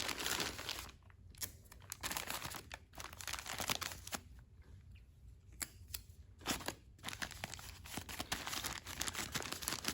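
Paper being crumpled, smushed into shape and taped for a sculpture, a quiet close-up series of crinkles, rustles and short tape-tearing bursts in irregular clusters with brief pauses between them.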